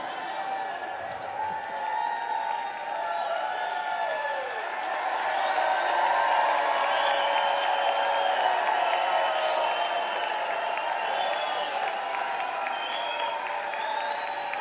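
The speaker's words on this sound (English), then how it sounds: "And you cheer like they're really gone." A concert audience applauds and cheers in a large, continuous wash of clapping, with shouts and whistles rising through it and building slightly toward the middle.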